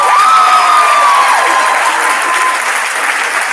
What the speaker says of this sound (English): let's give these guys another round of applause and thank them